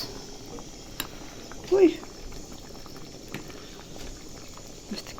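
Rice boils in a pot with a soft, continuous bubbling simmer, and a brief louder gurgle stands out near the middle.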